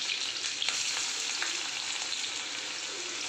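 Green chillies and chopped onions sizzling in hot oil at the start of paneer bhurji, a steady bright crackle with occasional louder pops and light stirring, close and continuous without talk.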